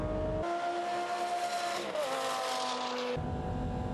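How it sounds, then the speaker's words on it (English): A V10 sports car with an E-gear transmission accelerates hard from standstill, its engine rising to a loud high-pitched scream with an audible gear change midway, close and continuous. "Starting off from a standstill, the E-gear transmission shows slight loss of power, but the V10 engine picks up without any stress"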